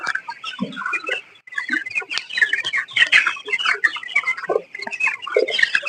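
Broiler chickens cluck and squawk continuously in a close, crowded poultry shed, with overlapping calls of varying loudness throughout and no talking.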